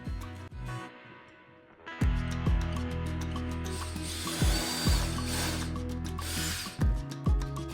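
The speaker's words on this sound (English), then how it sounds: "I used a stud finder to find a stud so I can drive a screw in." Power drill driving a screw through a workshop cubby into a wall stud, a steady buzzing whir that starts after quiet handling knocks and carries on with clicks and taps, fairly close.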